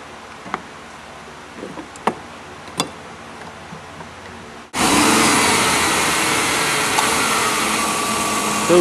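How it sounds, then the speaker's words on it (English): A car with an A/C problem, a vacuum gauge teed into its line, is started after a few faint clicks and taps in a quiet garage, then settles into a loud, steady idle that runs on with no talking. "So we start the engine"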